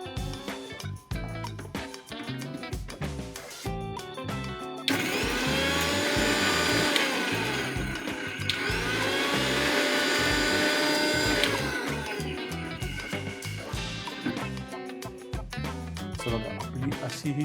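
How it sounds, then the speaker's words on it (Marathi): A kitchen mixer grinding rajgira (amaranth) vadi pieces into fine powder: a loud, steady motor whine runs for about seven seconds, dips briefly, then resumes before stopping, bracketed by clattering handling noises. "ते आपल्याला मिक्सरमध्ये घ्यायचे आणि त्याची छान आपल्याला बारीक अशी छान म्हणतो ना बुकटी करून घ्यायची आहे"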